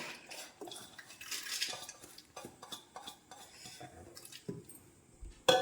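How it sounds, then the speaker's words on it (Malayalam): Washed lentils being tipped and scraped from a bowl into a pressure cooker in a home kitchen, with a close series of clinks, knocks and soft scraping of metal vessels and a spoon, and no talking. "നമ്മുടെ പരിപ്പെല്ലാം കഴുകി കൊണ്ടുവന്നിട്ട് നമുക്കിത് നമ്മുടെ കുക്കറിലേക്ക് മാറ്റാം."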